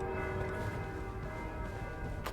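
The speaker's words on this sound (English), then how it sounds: "What are the bells?" Bells ring in a dense, sustained wash of overlapping metallic tones that continue steadily over an ambient background in the game This Bed We Made.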